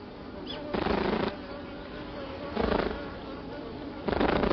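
Japanese honeybees vibrate their wings to communicate, giving three loud buzzing bursts of about half a second each over a low background hum.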